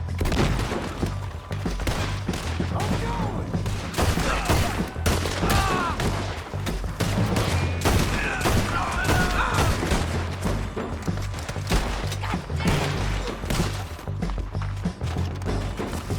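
Dense, rapid gunfire from the video game Red Dead Redemption 2, sharp shots and booms packed in a relentless fusillade, with occasional voices talking beneath.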